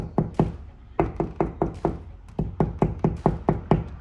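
Knuckles rap on drywall over and between studs in quick bursts of three to five knocks, about sixteen knocks in all, hollow between studs and more solid over one, close and clear with no voices.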